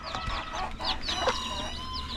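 A mother hen clucking among her chicks, with high peeping calls from the chicks layered over her low clucks, close and continuous for a couple of seconds.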